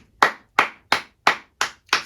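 Six single, sharp hand claps ring out in a steady, slow rhythm at about one every third of a second, each crisp and close with silence in between.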